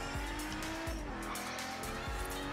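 Quartz Regalia car in Forza Horizon 3 driving fast, a loud sustained engine whine with rising gear pitch sweeps and brief tire squeals, steady and close throughout with no talk.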